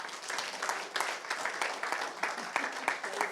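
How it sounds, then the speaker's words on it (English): An audience at an Age Scotland general election hustings applauds a Scottish Greens candidate from Livingston, a steady ripple of clapping from a moderate-sized crowd with some voices mixed in. "Would you give them a lovely round of applause for making it here?"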